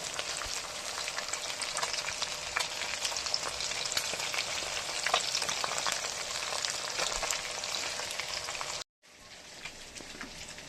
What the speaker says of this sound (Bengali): মাছগুলো কড়া করে ভেজে নিচ্ছি